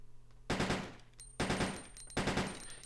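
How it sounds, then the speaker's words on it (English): Three loud bursts of rapid automatic gunfire, each lasting about a second, as a player fires at incoming missiles in Resident Evil Code Veronica X, with short pauses between volleys and a thin electronic tone running underneath. "I am shooting at the missiles"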